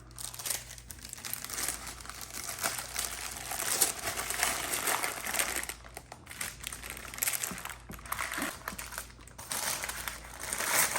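Baking paper is crumpled and peeled away from a cooled shortcrust apple cake, a continuous close, crackling crinkle with short pauses, fairly quiet and without talk.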